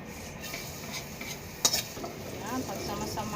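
Sautéing in a pan for coconut-milk pakbet with crab, a soft sizzle under the clink and scrape of stirring, with one sharper utensil knock partway through.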